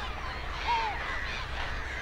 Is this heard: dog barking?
no